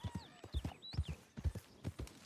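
Horse hooves clip-clop in a steady, close rhythm in Red Dead Redemption 2 while the horse is ridden, with a brief whinny-like squeal over the top and no talk.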